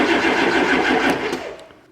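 Engine cranked over on the starter button with the key off, a dense steady churning roar running loud for about a second and a half before fading out.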